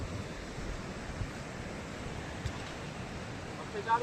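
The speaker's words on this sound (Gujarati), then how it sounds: "મોજાનો જ અવાજ આવે છે દરિયામાં" Sea waves wash onto a beach in a continuous, near, broadband surf roar with some wind noise, no distinct individual breakers standing out.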